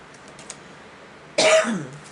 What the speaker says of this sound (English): I've been coughing